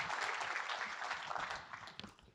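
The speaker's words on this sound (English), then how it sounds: "How about another round of applause, please" A conference audience claps for a panel in sustained applause, dense and even, tapering off slightly toward the end.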